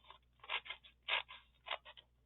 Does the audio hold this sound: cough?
no